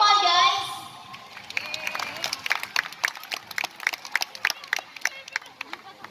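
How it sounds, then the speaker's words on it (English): Audience applause at a sea lion show at Manila Ocean Park, beginning with a brief burst of voice and cheering, then settling into a steady patter of clapping from a crowd that runs throughout. "A round of applause for Sandra."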